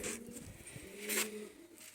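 A blue pigeon kept on a rooftop gives soft, low coos in short repeated phrases, fairly close and quiet, with faint background hiss and a brief brighter noise midway.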